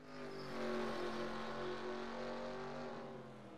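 A group of race cars running together at Canadian Motorsports Park, a steady blended engine drone from some distance that swells slightly and then holds, with no talk.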